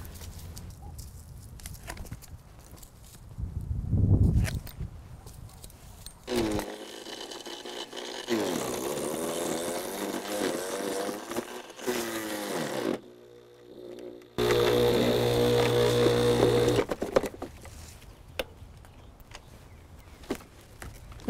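A Harbor Freight chipper shredder grinds up straight sticks with loud, uneven bursts of chewing and rattling, a sharp cut-off partway through as it jams and trips its breaker, then the motor roaring again before stopping.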